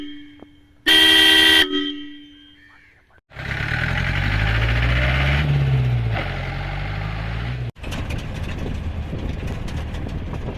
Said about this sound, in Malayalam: നമ്മളിതിൽ റൂട്ട്സിൻ്റെ മെഗാസോണിക്ക് ഫോണാണ് വെച്ചിരിക്കുന്നത്. അപ്പോൾ അതിൻ്റെ സൗണ്ട് ഒന്ന് കേൾക്കാം.